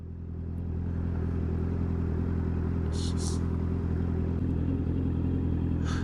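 A Honda CB650R motorcycle cruises through city streets in the evening, its engine droning steadily and close for several seconds with no talking.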